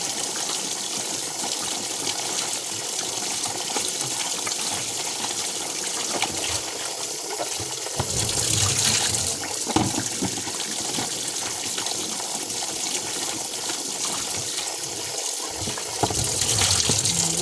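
Water runs steadily while a plastic basin is rinsed, a continuous gushing flow with occasional splashes and knocks of the basin, no voices heard.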